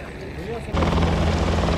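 A helicopter at a temple helipad starts loudly partway through, a steady rotor and engine roar that sits under faint background voices and continues to the end.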